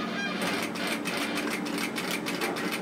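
A sewing machine stitches down a zipper on a small Boston-style bag, its needle pounding in a fast even rhythm throughout, close and fairly loud, with no voices.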